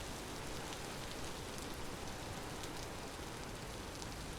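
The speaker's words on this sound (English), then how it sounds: "Oh yeah, it was raining. I completely forgot it was raining." Steady rain falls in the survival game Daub, a dense even hiss of drops that continues unbroken throughout with no other sounds over it.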